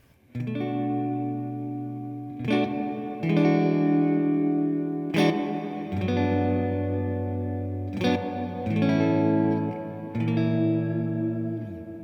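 Electric guitar run through a Boss SY-1 synth, HP-2 fuzz and Hall of Fame reverb, with several sustained synth-like chords struck in sequence, each swelling and ringing out with thick echoey reverb tails.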